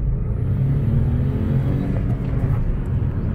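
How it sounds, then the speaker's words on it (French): A turbocharged car engine roars steadily at close range, a deep, continuous low rumble of hard acceleration with no voices over it. "Waouh, le turbo, on entend trop bien."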